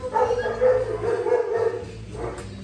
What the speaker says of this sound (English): dog is freaking out right now in the background